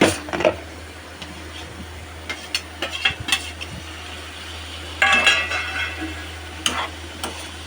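Tomatoes go into a pot of simmering mutton head curry with soft sizzling, scattered metallic clinks and scrapes of a spoon against the pot, and bursts of stirring.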